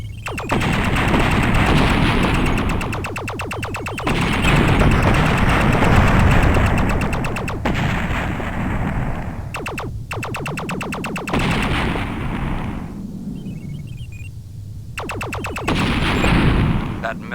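Gunfire and missile strikes in the 3DO game Shock Wave: rapid machine-gun bursts repeat in rhythmic volleys over rumbling explosions, loud and near, with a radio-style voice briefly heard among the battle noise.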